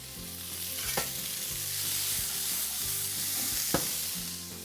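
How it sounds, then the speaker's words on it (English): Green peppers roasting in a hot pan give a steady, loud sizzle with crackling frying noise and a couple of brief sharp knocks, continuous throughout. "let's get our green peppers roasting"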